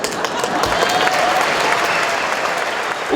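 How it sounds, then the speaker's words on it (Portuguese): A seated audience at a Brazilian accounting and tax congress breaks into loud, sustained applause for a lawyer. The crowd claps evenly and continuously throughout, with no voices standing out. "O público presente aplaudiu as afirmações do advogado"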